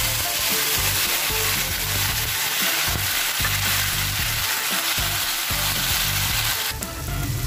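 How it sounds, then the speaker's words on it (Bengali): Nigella seeds sizzle in hot oil for a fish curry, a loud, steady crackling fry that runs without pause, close up and alone. "এবারে আমি কালো জিরেটা দিয়ে দিচ্ছি"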